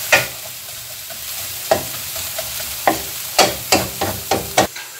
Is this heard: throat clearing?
no